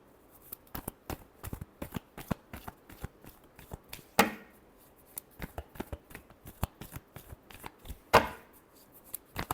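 A deck of cards is shuffled with crisp, rapid riffling clicks, broken by two louder bridging snaps that finish the shuffles. The sound is close and clear and no one speaks.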